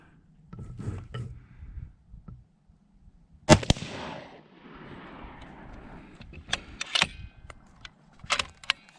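A .308 bolt-action rifle firing Norma match grade ammunition at a steel plate target outdoors: one sharp, loud shot with a trailing rumble, followed by clicks and rattles of handling the rifle.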